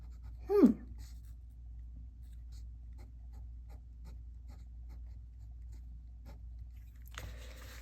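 A pen scratches across paper in faint, intermittent strokes, close by, with a brief sharp squeak-like sound near the start and a short noisier rustle at the end.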